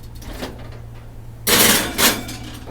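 A baking tray of banana cinnamon cookies slides into a home oven, with a solid metallic clunk followed by a second knock as the tray or door settles, close and fairly loud.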